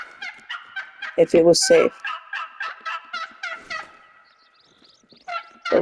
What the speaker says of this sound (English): That one gobbler wasn't coming out of the trees